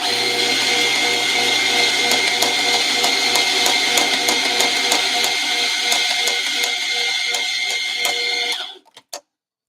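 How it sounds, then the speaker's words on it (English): A coffee grinder grinds roasted coffee beans for espresso blending, producing a loud, steady whirring hum with a rhythmic ticking for about eight seconds before it winds down and stops with a few small clatters. "All right, so let's do some more grinding."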